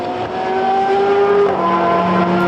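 Race cars including Corvettes and a Dodge Viper scream past at Zolder circuit during a Supercar Challenge race, loud engine whine shifting pitch as they accelerate, with a second car's note joining.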